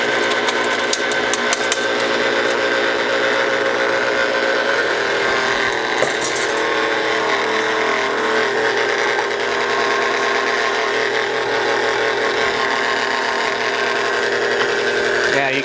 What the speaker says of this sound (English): for just 1 pound of potatoes, these little grinders work pretty well. So I'm just going to grind